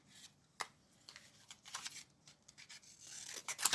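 Scissors snip and trim through fabric pieces in a quiet sewing room, a string of soft, uneven cuts and rustles that build to a few sharper, brighter snips near the end.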